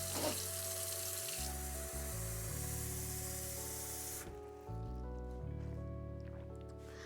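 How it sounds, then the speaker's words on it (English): A tap runs steadily into a vessel as water is restocked, a continuous splashing rush whose pitch shifts as the container fills, close by with no talk. "I'm going to restock on water."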